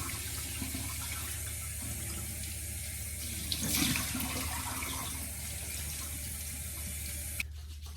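Steady water streams from a tap throughout while hair is washed, a continuous close hiss with a brief louder splash midway and a soft clunk near the end; no talking.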